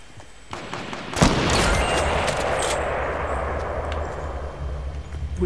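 Fortnite battle royale gunfire: after a brief quiet start, a sharp loud blast erupts into a dense, sustained roar of shooting and explosion noise that slowly fades over several seconds, with no talking.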